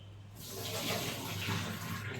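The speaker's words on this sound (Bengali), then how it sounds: "চালটা ভিজিয়ে রেখেছিলাম, তো চালটা আমি ধুয়ে দিয়ে দেব।" Soaked rice being rinsed in water in a home kitchen, a steady close rush of pouring and sloshing water that starts abruptly and carries on without talk.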